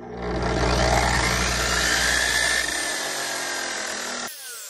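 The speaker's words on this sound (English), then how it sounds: "As the turbo is winding down on this thing" A Bauer 14-inch gas concrete saw engine runs loud and steady, then its pitch and volume drop as it winds down, fading toward quiet near the end.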